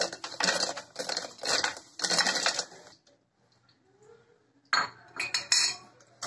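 Peanuts for amlou rattle and clatter in a grinder in two loud bursts of dense, clinking noise separated by a short quiet pause, with no talking.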